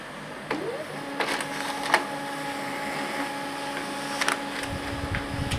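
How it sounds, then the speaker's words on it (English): A Samsung ML-1675 laser printer prints a page with a steady mechanical whir, broken by a few sharp clicks and feed noises. No one speaks. "let's watch a billion pages come out on the printer"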